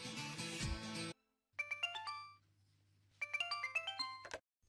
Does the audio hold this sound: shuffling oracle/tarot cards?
no